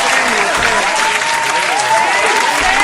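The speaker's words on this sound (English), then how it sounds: "We got to give her some applause." Loud, dense applause from a studio audience on a podcast, a steady wash of clapping that fills the whole moment.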